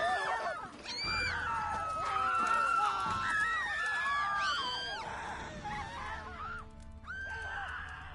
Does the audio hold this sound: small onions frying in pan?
no